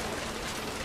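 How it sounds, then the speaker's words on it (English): Steady rain hisses in the video game What Remains of Edith Finch, a dense even wash of falling water over a brief moment with no voices. "Rain came down in buckets then"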